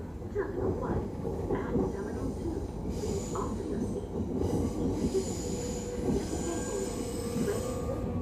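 A train runs steadily along rails with a continuous rumble and metallic wheel squeal, heard from on board for several seconds. Voices murmur beneath it.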